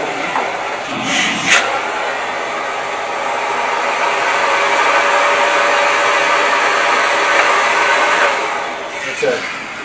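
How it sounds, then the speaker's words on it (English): Vacuum motor running steadily while rice in Mylar bags is prepared for sealing in food-grade buckets, a loud continuous whine with brief rustles near the start and end. "I'm gonna get my vacuum ready."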